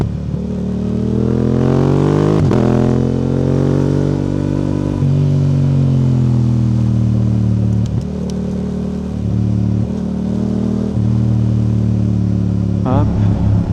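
A Yamaha R7 with its CP2 twin-cylinder engine revs loud and close on the road, rising through the gears with quick upshift blips and a steady throaty drone, with a rider speaking French over it.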